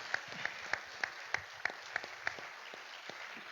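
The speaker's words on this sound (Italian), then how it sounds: "vorrei invitarvi a fare un applauso" Audience applause at a medical and dental profession day ceremony with authorities' greetings in Italy, a steady wash of many hands clapping at moderate distance with a few sharper claps standing out, no talking.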